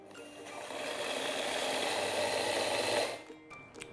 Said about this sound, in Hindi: इसे ड्राई ग्राइंड करना है और थोड़ा सा दरदरा रखेंगे, पूरा मसाला पीसना नहीं